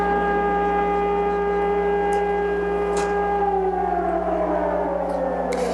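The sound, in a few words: air raid siren in Israel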